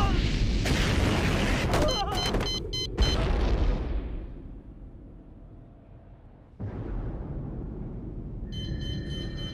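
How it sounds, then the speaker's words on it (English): A shock bomb goes off in an action crime film scene, a loud burst with crackling debris that fades into a long rumbling decay, then a second swell of noise. "This time it is a shock bomb."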